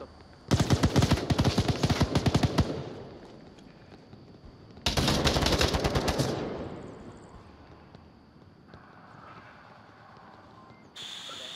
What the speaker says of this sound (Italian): Attenzione che c'erano altri spari.